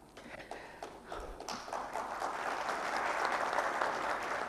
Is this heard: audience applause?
yes